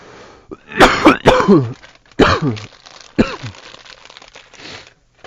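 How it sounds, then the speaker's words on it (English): A person coughs several times and clears their throat, sharp bursts with short gaps, close to the microphone. "I've paused about 4 or 5 times in this video just to cough"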